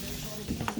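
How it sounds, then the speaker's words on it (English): Green onion hitting gently sizzling butter in a pan, a soft steady frying hiss with brief crackles as the onion goes in, close and alone without talk. "Now that our butter is starting to sizzle just a little bit"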